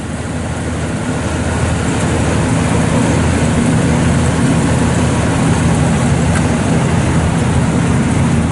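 A 1972 Oldsmobile Cutlass 442's original 350 four-barrel V8 with factory manifolds and 2-inch dual exhaust idles steadily on a chilly day with a deep, continuous rumble, loud and close, holding the same low drone throughout.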